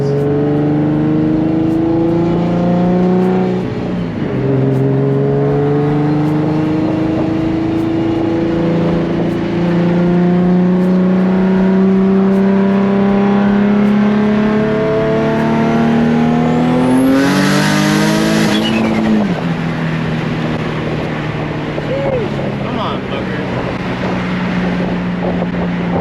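Turbocharged Nissan Z car accelerating hard on boost, a loud, sustained engine roar climbing through the gears with rising and falling pitch sweeps, a brief high whoosh midway, and steady wind rush throughout.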